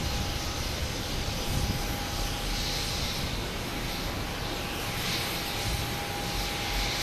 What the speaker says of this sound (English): This NetJet's coming in from Denver. Cessna Citation Longitude.